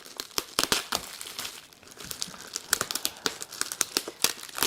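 A figurine packed in bubble wrap is unwrapped by hand, giving a dense run of crinkling and crackling with sharp pops and a little tearing, close and continuous with no talking.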